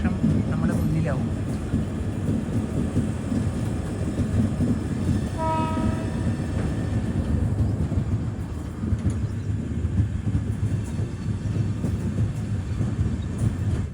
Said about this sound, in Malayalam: ട്രെയിൻ ഇപ്പോൾ റേണികുണ്ട ജംഗ്ഷനിലെത്തിയ